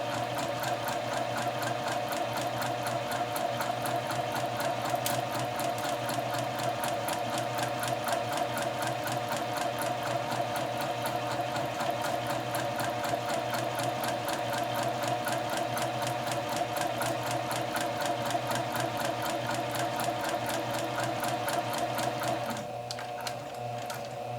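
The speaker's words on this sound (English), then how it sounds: "I'm going to get my back tack in there, and then stitch all the way through, removing my pins as I go" A sewing machine stitching a French seam with a quarter-inch allowance, running steadily with a fast, even mechanical whir and rapid needle clatter throughout, stopping just before the end.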